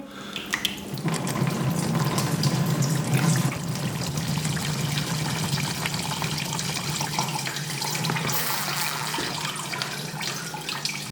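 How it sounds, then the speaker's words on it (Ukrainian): Water pours steadily into a 3D-printed hydroponic tower, a continuous close trickling and splashing stream that runs without a break for about ten seconds, with no voices over it. "Заливаю воду."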